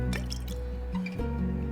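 Liquid pouring and dripping into a glass at a tavern bar in the game Tavern Talk, a short wet trickle with a brief break partway through, heard alone over a steady low background hum.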